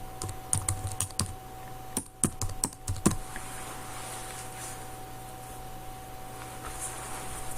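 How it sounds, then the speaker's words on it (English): Fingers type on a computer keyboard in quick, clicky bursts of keystrokes up close, then stop, leaving a faint steady hum. "and I'll type it."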